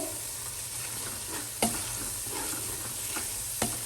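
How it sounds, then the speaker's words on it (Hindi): Masala roasting over a low flame in a karahi for mutton karahi gosht, with a steady sizzle and two sharp scrapes of a spoon stirring against the metal, close and alone. "अच्छे से इसकी भुनाई कर लेंगे"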